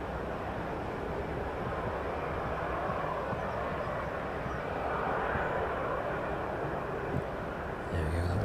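An Aegean Airlines airliner passing at East Midlands Airport, a steady broad jet roar that holds evenly through the whole stretch, fairly distant and unbroken.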